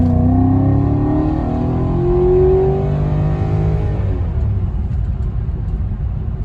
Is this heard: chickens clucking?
no